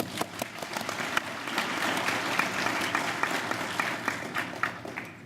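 An audience at a research directors' association event gives Congresswoman Alma Adams another round of applause, a sustained, moderately distant crowd clapping with occasional sharper individual claps standing out.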